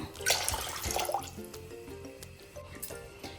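Water is poured into a bowl of gram flour and maida, making a soft, quiet trickle with scattered drips and splashes over about three seconds.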